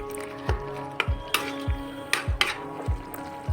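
Spinach leaves being stirred in a pot of boiling water for a spinach and meat dish, with repeated soft knocks and scrapes of a utensil against the pot at an uneven rhythm over a steady bubbling hiss, close and clear, no talking.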